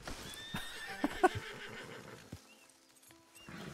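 A horse whinnies in a burst of high, shaky calls in Red Dead Redemption 2 on Xbox One, with some clopping and a few softer background noises around it.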